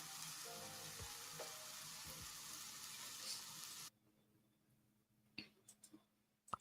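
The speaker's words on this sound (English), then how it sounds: "You have sizzling." Sizzling food cooking effect from a cozy storytelling game: a dense, steady frying hiss for about four seconds, then a sudden drop to near silence broken by a few soft clicks.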